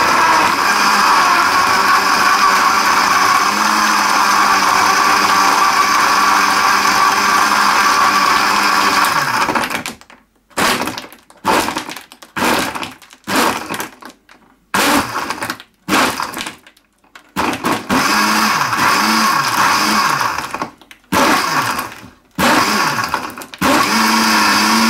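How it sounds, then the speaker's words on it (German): A standard kitchen blender crushes four ice cubes with sugar for a strawberry yogurt shake, roaring loudly and steadily for ten seconds, then running in short choppy pulses with brief silences between bursts. "Das ist hier halt ein Standard-Mixer, mit dem kann man halt kein iPhone klein machen."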